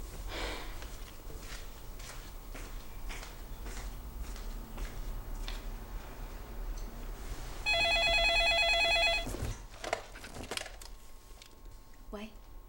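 A telephone bell rings in a quiet home at night, a steady electronic trill lasting a couple of seconds after some shuffling and breathing sounds, then stopping.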